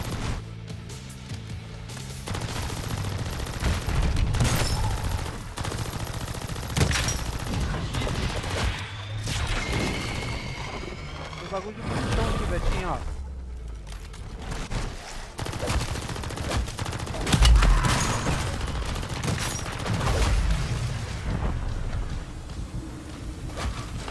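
Repeated volleys of gunshots and automatic fire ring out in the video game Deadbolt, dense and loud throughout, with gusty noisy texture between bursts.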